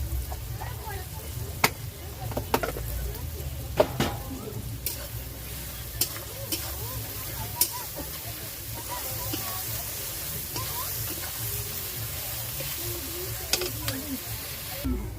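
Onions fry in a pan with salt, a soft sizzle with occasional spatula clicks and scrapes, fairly faint, with a low background hum and some voices talking faintly in the background.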